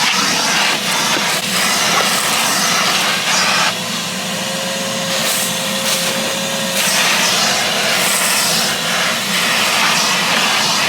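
An Armor All AA255 2.5-gallon, 2 peak HP wet/dry shop vacuum runs continuously while sucking up dirt, a loud, close, steady motor whine and airflow roar with slight pitch shifts as debris is drawn in.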